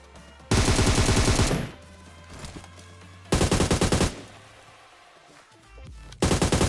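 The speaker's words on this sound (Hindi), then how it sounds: "भाई साइड से इतना फायरिंग चलने लगती है" Heavy gunfire in PUBG at Pochinki, with loud rapid bursts coming in three separate volleys and quieter game ambience between them.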